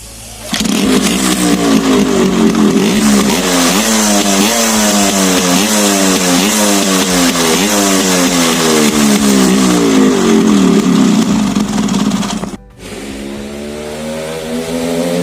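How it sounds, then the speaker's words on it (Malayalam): A Yamaha RX series motorcycle with its stock exhaust muffler revs repeatedly, loud and close, the two-stroke engine rising and falling in steady pulses for about twelve seconds before dropping briefly and resuming at idle. "ഫസ്റ്റ് നമുക്ക് സ്റ്റോക്ക് ഫ്ലൂട്ട് വെച്ചിട്ട് അതിൻ്റെ സൗണ്ട് എങ്ങനെയുണ്ടെന്ന് നോക്കാം."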